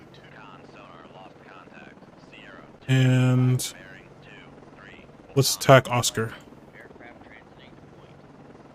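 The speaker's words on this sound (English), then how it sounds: "Alright, let's go back to our helicopter." A low, steady helicopter drone from the submarine warfare game Cold Waters runs under a voice, interrupted by a loud tonal game alert and a cluster of sharp bursts.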